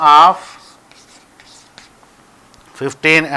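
Marker or chalk scratches on a classroom board in soft, faint strokes between bits of a teacher's speech at the start and end.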